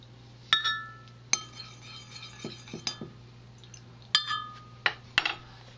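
Soft plastic bait mixture with a softener formula is stirred in a container, producing sharp ringing clinks and taps of a utensil against a glass vessel, scattered at irregular intervals over a low steady hum.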